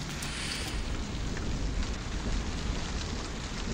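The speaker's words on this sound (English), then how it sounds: "I see Baal has brought us rain." Steady rain falls in a dense, even hiss that stays constant and fairly loud, with no voices and no breaks.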